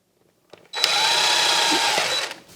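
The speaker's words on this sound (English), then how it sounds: "Then the same procedure, 3/32 drill bit." A power drill with a 3/32 drill bit whirs steadily at high speed for just over a second, starting abruptly after a few faint clicks and cutting off sharply, close and fairly loud.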